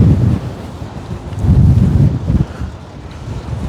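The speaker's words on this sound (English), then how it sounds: "The wind has really picked up" Heavy wind buffets the microphone at an electric car fast-charging station in loud, rumbling gusts that rise and fall continuously, with no other clear sounds.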